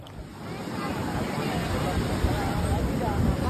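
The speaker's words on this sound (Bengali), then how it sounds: "আমি এখন চলে এসেছি সমুদ্রের পাড়ে," Sea waves wash onto the beach at Puri in a steady, close roar, mixed with wind rumble on the microphone and faint voices in the background.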